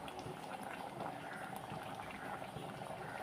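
Chicken biryani masala bubbles and simmers in an open pressure cooker, a steady, close, continuous boiling hiss with faint crackles and pops and no talk over it.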